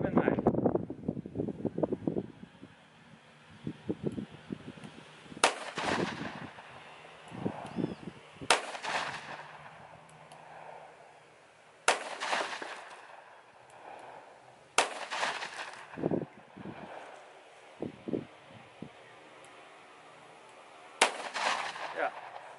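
A .357 Magnum firing 158-grain rounds into a concrete block outdoors: several loud, sharp gunshots spaced a few seconds apart, each with a ringing tail, with wind noise and people talking between shots.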